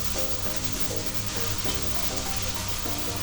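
Shrimp and onion frying in a pan, a steady close sizzle with faint stirring scrapes throughout, no voices.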